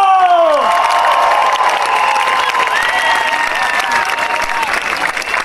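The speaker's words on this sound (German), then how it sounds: "Also auch nochmal da einen Applaus" A large crowd at a street demonstration in Cologne bursts into loud applause and cheering, with whoops and shouted voices rising over continuous clapping across the whole stretch.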